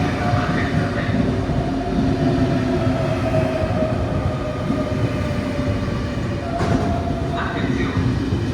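A train rumbles into a platform at Venezia Mestre station with a steady low mechanical drone, brief squeals and clatter rising over the noise; an Italian announcement voice talks faintly underneath.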